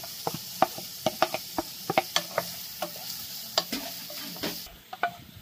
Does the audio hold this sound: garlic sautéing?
yes